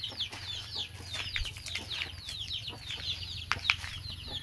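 Chickens cluck and chirp in a backyard vegetable garden, a scattered series of soft calls and occasional wing flaps heard at a distance, fairly faint against quiet outdoor ambience.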